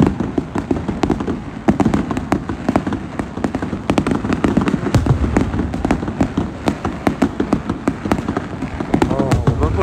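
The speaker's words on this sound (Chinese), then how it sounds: "就那大烟花。" Large fireworks go off at a Chinese New Year celebration, a dense, continuous crackle of rapid bangs and pops over a low rumbling wash, loud and close throughout.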